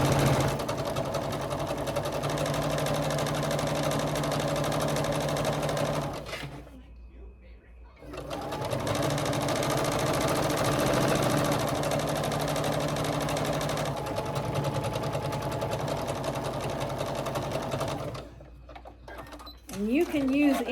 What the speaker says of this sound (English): we're going to sew a 1/4-inch seam all the way down that side